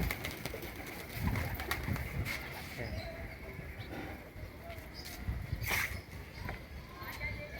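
Pigeons cooing softly in a loft or rooftop setting, low murmuring calls repeated under background noise, with someone talking nearby.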